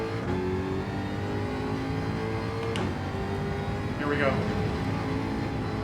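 A race car in Gran Turismo 7 accelerates at full throttle, its engine a steady loud drone with layered harmonics and a brief rising rev near the end, while someone talks briefly over it.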